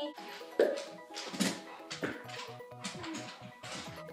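A small dog whimpers and yips several times at close range, short high-pitched bursts with a few soft thumps between them.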